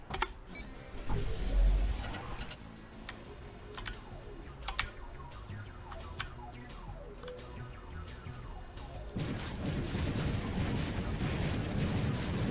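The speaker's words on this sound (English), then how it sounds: "To launch mortars, use the mouse to aim, and W and S to zoom in and out." Mortars launching in Ty the Tasmanian Tiger 2, a series of sharp thumps and cracks spread across the stretch with a heavier rumbling burst near the end, over a steady game background and with no talk.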